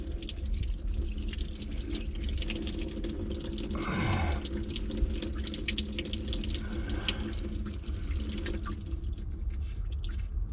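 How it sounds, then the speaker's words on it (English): Antifreeze drains from the block of a cracked 3.0 Mercruiser boat engine, running as a steady close trickle and splash like a tap into a sink, with some dripping and no talk. "I'm gonna drop some so all the antifreeze level will go down so I don't get any water coming out of here"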